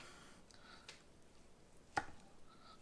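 A knife slices through smoked Wagyu beef plate short ribs in a quiet room, giving one soft, brief cut.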